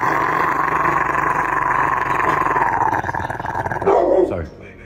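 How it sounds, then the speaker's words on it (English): A dog growls and barks close up in a steady, loud stretch lasting about four seconds, ending in a short burst before falling quiet. "Bark at your dog."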